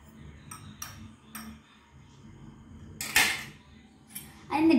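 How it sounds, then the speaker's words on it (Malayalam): Spoon scraping and clinking against a pan while egg fry is mixed, a few scattered metallic taps and a louder scrape near the end. "ഞാൻ ഒന്ന് മിക്സ് ചെയ്ത് കൊടുക്കുകയാണ്."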